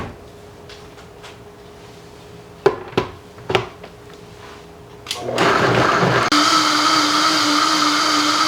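A high-speed blender purees red pepper soup: a few clicks and knocks come first, then the motor kicks in with a loud, steady roaring whir that carries on to the end.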